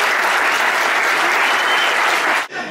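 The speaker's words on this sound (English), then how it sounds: "Let's give him a round of applause." Crowd at a Nevada Boxing Hall of Fame ceremony claps in a loud, dense burst of applause that holds steady, then cuts off abruptly near the end.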